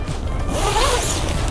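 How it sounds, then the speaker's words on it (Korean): A zipper on the divider of a Skycamp rooftop tent annex is pulled closed, making a close, continuous rasping zip for about a second and a half. "지퍼를, 지퍼를 체결 체결을 해줍니다"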